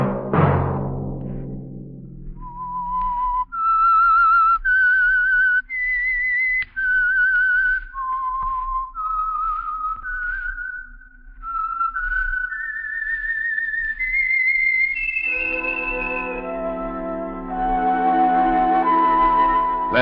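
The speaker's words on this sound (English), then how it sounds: "Let that whistle be your signal for the Signal Oil program, The Whistler, each Sunday night at this same time." Whistled theme of the old-time radio drama The Whistler: a lone, clear whistler climbs through a slow, eerie melody, note by note, before an orchestra swells in underneath near the end.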